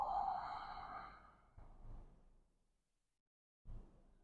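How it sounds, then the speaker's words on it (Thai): A person exhales audibly during a Pilates rehabilitation exercise: a long, close breath out that fades, a softer second breath, a pause of silence, then another short breath. "หายใจออก"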